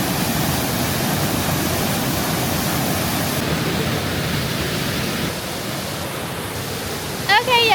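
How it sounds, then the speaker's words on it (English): Ulu Petanu waterfall in Ubud, Bali, a steady broadband roar of falling water filling the whole clip, loud and close, with no voices. "I am at the waterfall here in Ubud."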